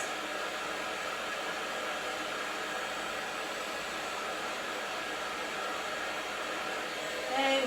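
A hair dryer runs steadily while blow-drying short hair for volume, a loud continuous airy roar that holds constant throughout with a slight change near the end.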